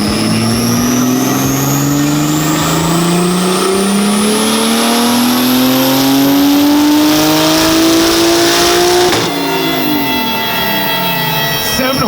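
An 800bhp single-turbo car on pump fuel revving hard on a dyno during a power run, a loud, close engine climbing steadily in pitch for about nine seconds before lifting off and settling.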